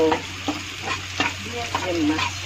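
Cumin seeds sizzle in hot oil in a home kitchen as the base for a fish curry, a steady close frying hiss broken by a few sharp spatters and stirring clicks.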